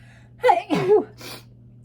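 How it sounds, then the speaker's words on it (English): A close sneeze with a quick intake of breath and a burst, followed by a softer exhale, against a low steady hum. "I'm going to sneeze, so I'll just kind of let that pass."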